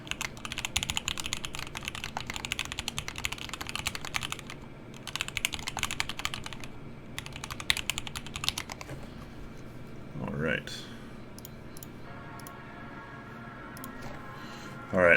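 Typing test on a rebuilt Bauer mechanical keyboard with a new plate and switches, rapid clacky keystrokes in bursts with short pauses, close and fairly loud, then sparser key taps near the end.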